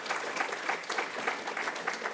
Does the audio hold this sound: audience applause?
yes